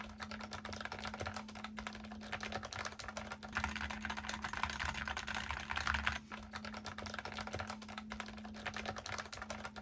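Fast, steady keystrokes on a Logitech G915 X keyboard with tactile low-profile switches, a dense run of close clicks and taps lasting the whole stretch with brief pauses, and no voices.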